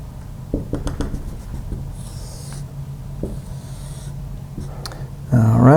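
Marker or chalk strokes drawing on a board during an econometrics lecture, a series of short scratchy taps and squeaks close by, with a faint hum beneath and a brief louder burst at the end.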